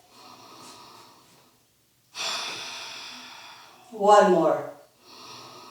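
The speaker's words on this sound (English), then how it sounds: "Circular breath or Ujjayi breath." Deep Ujjayi yoga breathing at the close of a yoga flow, with audible breaths and a strong, throaty exhale near the end, close and clear. A brief spoken instruction comes before it.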